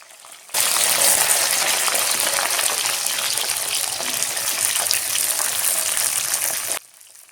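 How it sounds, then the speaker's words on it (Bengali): Sliced okra dropped into hot rice bran oil in a kadai, setting off a loud, dense, even hiss that starts abruptly, holds steadily for about six seconds, then cuts off. "তেল গরম হয়ে গেলে কেটে রাখা ভিন্ডিগুলো দিয়ে দিলাম।"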